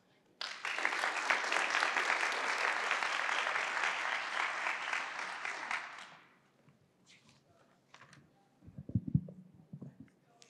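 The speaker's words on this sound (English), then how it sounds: "Can we give them another round of applause, please?" Audience applause at a university grant ceremony, a dense burst of clapping lasting about six seconds, then fading to scattered claps and faint murmurs.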